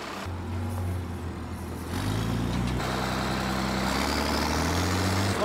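A farm truck's engine idles with a steady low rumble, close by, rising slightly in level partway through as it settles into a heavier drone.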